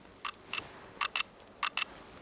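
Canon EOS R6 Mark II camera firing its artificial electronic shutter sound, six short, crisp clicks arriving in three quick pairs, close and clear in a quiet room.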